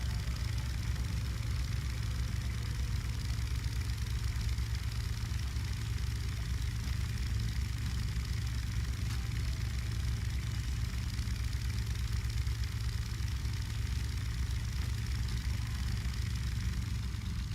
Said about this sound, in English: I feel like the sound of that car might be a bit loud. Or not car. Engine.